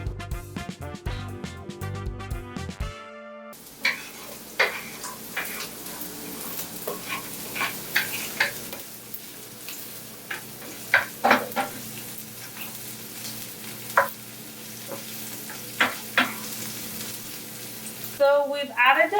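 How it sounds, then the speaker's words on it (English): Onions frying in a pan for a Nigerian suya-spiced beef burrito, a steady soft sizzle with scattered sharp clinks and scrapes of stirring, after a short burst of music at the start. "So we've added the onions and we're gonna let it cook just a little bit till it becomes translucent."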